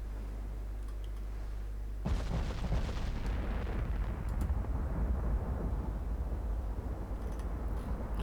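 Heavy 18-inch naval shells slam into a battleship in the Ultimate Admiral Dreadnoughts game: a sudden deep booming impact cuts in after a low hum, followed by rumbling, crackling explosions that roll on at high volume.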